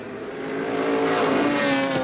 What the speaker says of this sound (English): A couple of little Mazdas having a go back in the pack. And I think it's a Datsun 120Y, car number 31 of Sean Donnelly